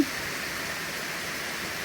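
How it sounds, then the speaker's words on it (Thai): Rain falls in a continuous, even hiss, a broad steady wash of sound with no voices over it. "ฝนตกทุกวันค่ะ"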